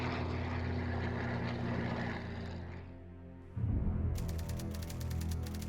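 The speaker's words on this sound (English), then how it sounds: "150 fighters sweeping over southern Britain, hunting out the Hurricanes and Spitfires" Propeller-driven WWII fighter aircraft flying overhead over southern Britain, a loud continuous droning engine roar that dips briefly and then surges back, with a steady buzzing pulse near the end.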